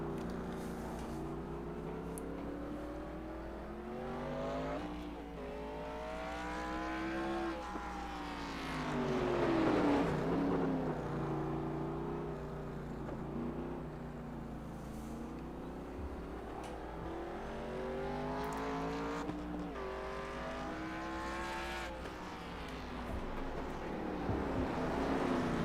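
Race cars lapping the Mid-Ohio track, engines revving up and down through gear changes as cars pass, with a louder swell near the middle and a continuous mid-distance motor drone.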